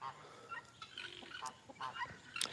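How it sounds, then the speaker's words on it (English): Rhode Island Red chickens at an animal sanctuary give a series of short, close clucks and squawks at irregular intervals, with a few sharper calls near the end. "These are very bossy chickens."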